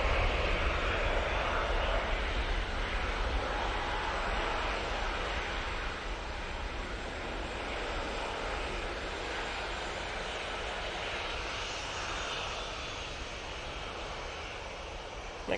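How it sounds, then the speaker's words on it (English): An easyJet Airbus A320 jet airliner arriving at Manchester Airport produces a moderate, continuous engine rumble and rushing wash that slowly fades a little over time, heard at some distance with no voices. "Next in is the Easyjet A320"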